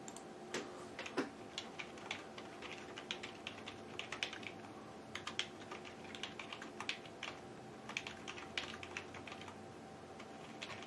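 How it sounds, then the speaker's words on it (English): Quiet clicking of computer keys during a live-streamed board game session, coming in irregular bursts of soft taps with short pauses, close and faint with a low steady hum behind it. "you can probably hear me typing right there"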